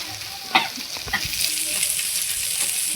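Bombay duck (bombil) fish frying crisp in a pan, a steady bright sizzle with a few soft scrapes and knocks as the pieces are flipped over.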